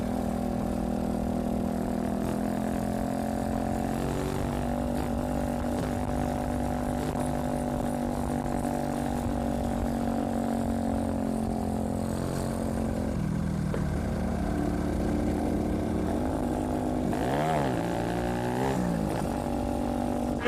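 Without an exhaust pipe, a vehicle's engine roars loud and continuous on a mountain road ride from Pérez Zeledón to Dominical, Costa Rica, holding a droning pitch with rising and falling revs throughout.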